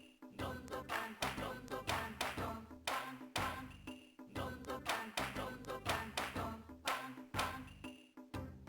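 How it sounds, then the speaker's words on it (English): Rhythmic clapping cues from the Rhythm Heaven (Rhythm Tengoku) video game repeat steadily over a looping musical backing, with sharp hand-clap hits landing in regular groups. "When you hear pom pom, clap twice."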